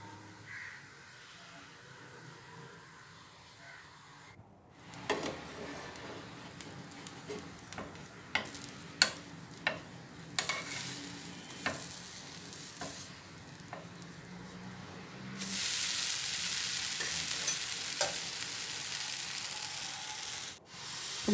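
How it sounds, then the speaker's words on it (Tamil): A ladle spreads Sri Lankan spongy set dosa batter on a hot pan with a series of soft, separate scraping strokes, followed by a loud, steady sizzle near the end. "தோசையை வந்து கரண்டியால் மிச்சம் சுற்றக்கூடாது, ஒரு லைட்டாக மட்டும் சுற்றிட்டா போதும்."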